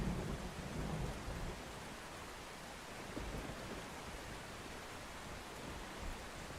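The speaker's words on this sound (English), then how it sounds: "Oh my God, that thunder." A storm in the video game OUTBRK: a deep rumble of thunder under steady, dense rainfall, loudest at the start and then settling into a constant wash of rain.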